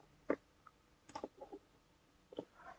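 Keyboard clicks and mouse clicks while editing a sprite in a calculator programming project: a few sharp, fairly quiet taps and short clusters spaced over a few seconds, with no speech.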